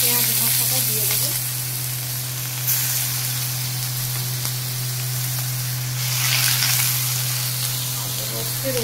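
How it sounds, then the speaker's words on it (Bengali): Whole spices and fried onion sizzle loudly in hot white oil, a steady dense frying hiss with stirring scrapes and a couple of brief louder surges, close and alone. "ফোড়নে সাদা তেল, গোটা গরম। এরপরে তেল গরম হয়ে গেছে, ফোড়নটাও চড়বড় করে উঠলে এই পেঁয়াজ ভাজাটা দিয়ে দেবো।"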